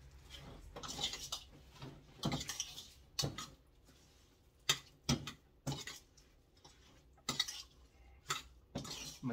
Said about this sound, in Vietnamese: Mình trộn nó cả nhà, trộn này ha, ăn trộn này ha, đó ha, mình trộn nó lại.